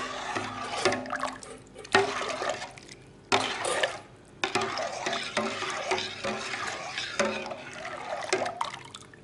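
Sugar is stirred into a homemade prune drink, giving liquid sloshing and swirling in a pot with irregular louder clinks and splashes, fairly close, no voices.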